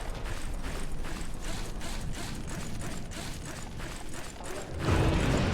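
An elevator mechanism in the video game White Knuckle grinds upward with a steady ratcheting, gear-like clatter and faint creaks, close and continuous, swelling into a louder rumble near the end.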